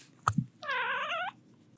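A house cat gives a single clear, drawn-out meow with a rich harmonic tone after a couple of soft thumps, fairly close and heard on its own.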